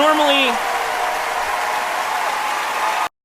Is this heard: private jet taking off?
no